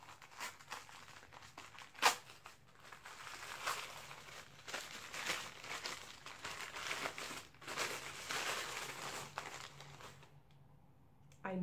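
Paper packing material crinkles and rustles near and soft as a surprise package is unwrapped, with irregular bursts of crumpling, one sharper crackle early on and a quiet lull near the end.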